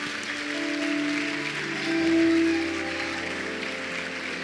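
A church congregation applauds steadily during a Portuguese-language sermon service, a sustained wash of clapping that swells briefly in the middle, with a low organ or keyboard tone held underneath.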